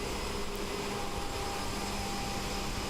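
Simulated CRJ-700 jet in Microsoft Flight Simulator at cruise altitude, a steady broadband whooshing roar with faint tonal whine, continuous and even throughout, no speech.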